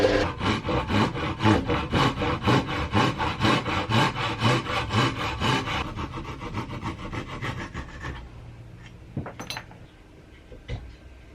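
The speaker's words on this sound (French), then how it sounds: "je vais venir couper mon morceau de bois ici" A handsaw cuts through a piece of wood for a guitar build, with steady rhythmic back-and-forth strokes that are loud and close, then slow and thin out before stopping, leaving a few faint scrapes.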